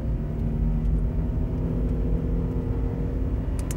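A Mazda MPV accelerates hard toward 100 from inside the cabin, shifting at the red line, with a loud, steady engine drone and low rumble throughout and no talking.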